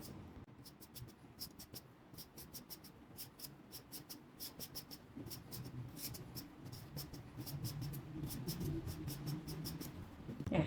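A knife peels a sweet potato, a quick run of fine scraping strokes that repeats steadily, close up under low background noise, with no talking.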